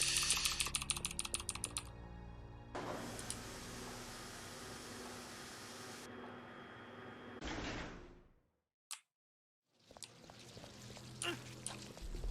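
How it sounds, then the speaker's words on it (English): Rapid computer keyboard mashing during a glitched speedrun of Resident Evil: Code Veronica X, a fast burst of clattering keystrokes at the start, then steady game noise, a brief dropout to near silence and more scattered clicks. "Just mash my keyboard again"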